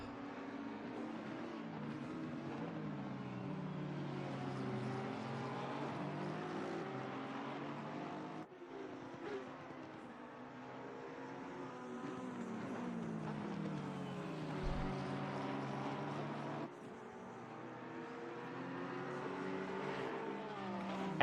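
GT3 race cars in Assetto Corsa Competizione, a Porsche and a McLaren 720S racing at Barcelona: a steady, fairly quiet engine drone with shifting pitch, rising and dipping through gear changes with no break.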